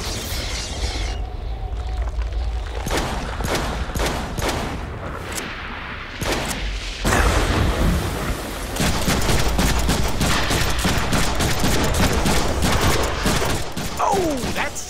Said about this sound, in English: I'm really liking these pulse guns.